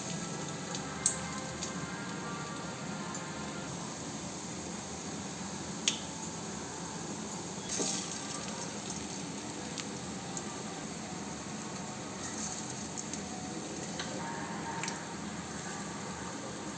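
Onion bonda balls dropped into hot oil give a steady, even crackling sizzle that fills the scene, with a few small sharp pops and splashes now and then, close and fairly loud, no talking.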